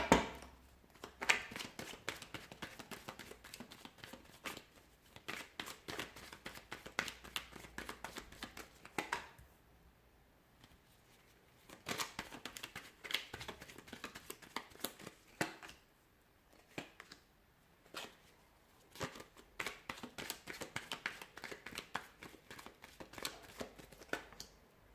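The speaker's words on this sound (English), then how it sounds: "let's give the cards a shuffle and begin" Tarot cards are shuffled close up in a series of crisp riffling and slapping bursts, with short pauses between rounds and no talking.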